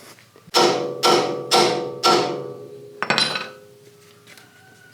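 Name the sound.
hammering on truck upper control arm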